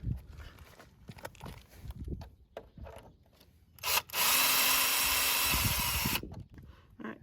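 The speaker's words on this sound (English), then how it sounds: "if you have a bit like this, you can use a drill. And then you're just going to take off these 3 bolts right here." A power drill fitted with a T15 bit backs out motorcycle bolts, starting with short scraping and rubbing noises, then a steady whirring run of about two seconds that stops abruptly.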